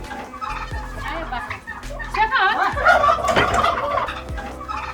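Turkeys on a mixed livestock farm gobble in several rapid, warbling bursts close by, with other fowl calls and light background noise around them.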